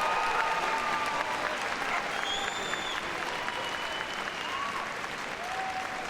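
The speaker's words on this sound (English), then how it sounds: "So let's give them a big round of applause now as they leave the arena." Steady, continuous applause from the arena audience at Crufts 2013 after a freestyle heelwork to music routine, a dense wash of clapping throughout with a few faint whistles or cheers rising over it.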